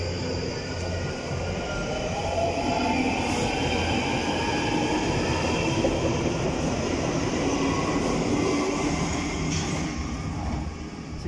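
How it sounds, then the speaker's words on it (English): A London Underground Northern Line train rumbles steadily close by, with wheels grinding and faint squealing as it pulls away along the track and round a bend. "This is the Northern Line train by Charing Cross."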